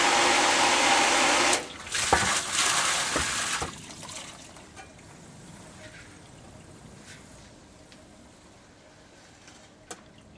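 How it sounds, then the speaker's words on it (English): Water rushing loudly into a stainless steel Purex filter, a strong hissing gush that cuts off abruptly after about a second and a half, followed by a few thuds and knocks and a quiet, fading trickle. "The filter is going to fill with water"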